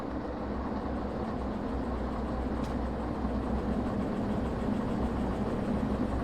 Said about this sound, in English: I'm just going to put a little bit of a few revs on this because I have a feeling this is on an uphill gradient.